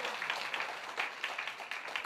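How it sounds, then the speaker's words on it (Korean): A church congregation claps during a Sunday morning worship service, a steady, moderately quiet patter of many hands filling the room for a couple of seconds. "박수."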